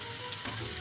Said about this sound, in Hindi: ये देखें, अल्हम्दुलिल्लाह हमारे पकौड़े जो अच्छे से फ्राई हो गए हैं।